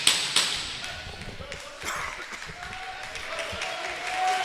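Cheering section for St. Catharines at an indoor junior lacrosse final, a sustained crowd roar with scattered claps and thumps from the floor, a commentator talking over it.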